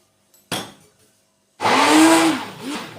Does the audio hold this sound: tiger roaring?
no